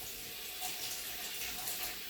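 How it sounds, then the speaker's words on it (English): Water runs from a kitchen tap in a steady, hissing stream while hands are rinsed, close and continuous with no talk. "So now, just rinse my hands."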